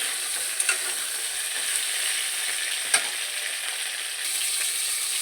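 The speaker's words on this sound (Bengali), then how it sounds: "দেখো আলু বেগুনটা আমি ভাজছি লম্বা লম্বা করে আলু দিয়েছি একটু লম্বা লম্বা করে বেগুন দিয়েছি" Long strips of potato and eggplant fry in oil for a katla fish dish, a loud, steady close sizzle broken by a few sharp spatula taps and scrapes.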